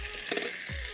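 Brinjal and a tomato frying in hot oil, a brief burst of sizzling and spattering as they hit the pan, then settling to a low hiss; close, with no talking.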